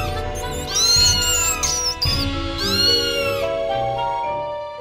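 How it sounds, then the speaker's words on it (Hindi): A cartoon cat meows in an animated Hindi children's story, with two long rising-and-falling yowls over background music, close and loud. "और उसके बाद बिल्ली ने उनको दौड़ाया।"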